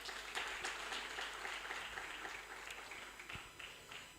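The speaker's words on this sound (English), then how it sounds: "A round of applause for him" A conference audience applauds a university Vice Chancellor, a soft distant roll of many hands clapping that stays even and fairly faint throughout.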